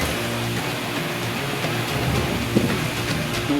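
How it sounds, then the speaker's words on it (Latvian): Rain falls steadily outdoors, a dense, even hiss of droplets that continues unbroken, fairly loud, with a faint low rumble beneath. "Mums ir uznācis lietus."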